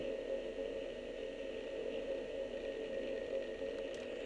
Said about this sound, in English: here is the proton stream sound, just the basic hum